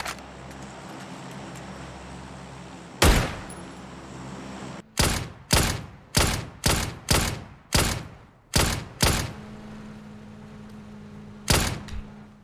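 Loud, sharp Dragunov SVD sniper rifle shots in a battle royale shooter game, one isolated crack followed by a rapid string of about eight evenly spaced shots, then a final shot after a pause, with no talk.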